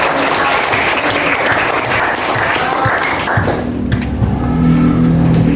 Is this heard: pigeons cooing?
no